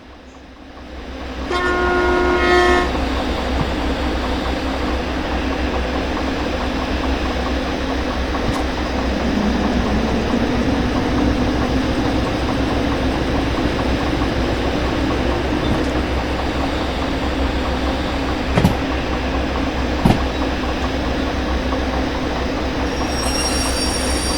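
A locomotive in the Derail Valley train simulator game sounds a brief horn, then rolls on with a loud, continuous rumble of wheels on rails and occasional sharp squeals and clicks.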